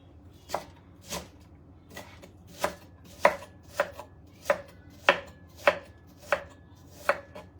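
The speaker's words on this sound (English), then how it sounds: "So I'm going to cut my onions into pieces" Onions being chopped into pieces for an eggs, ham and cheese wrap: about a dozen sharp knife strikes on a cutting board, evenly spaced at a steady unhurried rhythm, close and clear with no talking.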